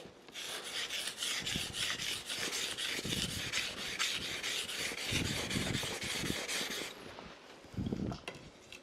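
A kitchen knife scraped back and forth across a whetstone in steady, close rasping strokes for most of the stretch, then a brief pause and a few lighter final passes.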